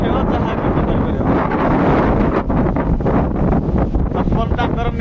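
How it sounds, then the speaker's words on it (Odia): Strong night wind at the seashore buffets the microphone in a loud, constant roar, with a faint voice partly buried beneath it. "ରାତି 3ଟାରେ ବର୍ତ୍ତମାନ ସମୁଦ୍ର କୂଳ ମଜା ମାନେ ଅଲଗା ପ୍ରକାର ପବନ ହେଉଛି।"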